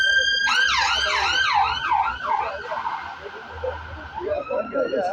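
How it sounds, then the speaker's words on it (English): An ambulance siren wails loudly up close on a Birmingham street, its rising and falling sweeps sliding past over traffic rumble before a second siren cycle starts near the end. "ambulance."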